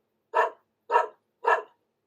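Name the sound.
dog barking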